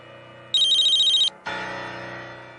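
A phone ringtone trills for under a second, a rapid electronic warble, then stops and gives way to a different steady tone.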